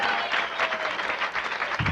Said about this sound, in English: Let's have a nice big round of applause.